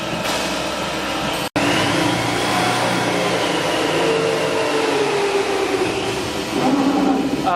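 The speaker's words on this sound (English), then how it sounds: "This is our CNC servo press brake" An electro-hydraulic CNC servo press brake with a Delem controller, Y1/Y2 servo valves and hydraulic crowning runs with a loud, steady mechanical drone and whining tones, broken by one abrupt instant dropout, then rising pitch near the end, with no speech.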